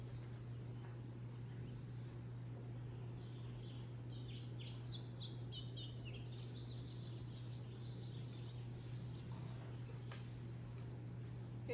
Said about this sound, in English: You can hear all those birds chirping.